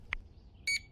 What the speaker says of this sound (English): I think the buzzer went off